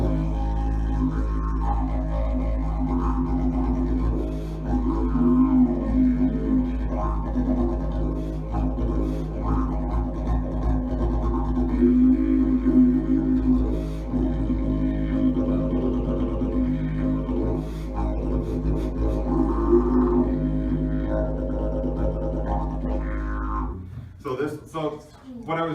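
Didgeridoo played alone at an elementary school, a long continuous low drone with shifting vocal overtones and rhythmic swells, close and steady for most of the passage before cutting off near the end.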